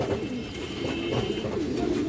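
A female pigeon gives soft, repeated throaty coos close by, a continuous low burbling call with no talking.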